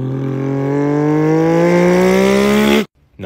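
A voice imitates an inline-six car engine revving, tuned to a perfect-fifth interval, with steady rising harmonic tones held loud and close for nearly three seconds before cutting off abruptly.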